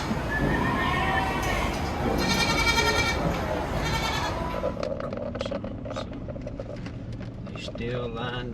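Several meat goats bleat loudly in overlapping cries as they are unloaded on a goat farm, with lighter bleats and general farmyard bustle continuing afterward.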